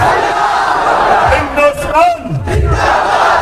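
Rally crowd chanting a slogan in response at an AIMIM political gathering in Malegaon, a loud mass of voices surging and rising in overlapping shouts, with a sweeping vocal call cutting through midway.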